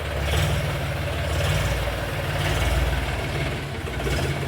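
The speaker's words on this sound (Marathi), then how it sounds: "तर चला येऊ ट्रॅक्टर बाहेर काढू" A tractor engine idles steadily close by, a low, continuous diesel rumble with an even throb and no voices.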